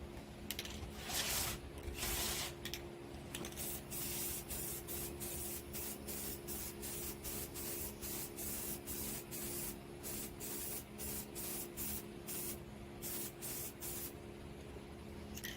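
Spray paint hisses from an aerosol can in repeated short bursts, close and steady, while a pet grave marker is painted outdoors in the wind.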